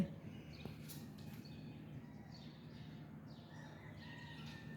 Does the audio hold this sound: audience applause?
no